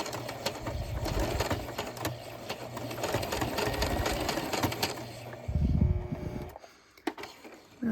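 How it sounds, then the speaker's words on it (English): A sewing machine stitching a rope ghost, its motor whirring in a steady buzzing run for several seconds before slowing and stopping, with a couple of soft clicks at the end. "So I am going to just slowly stitch to about here to where it starts to turn"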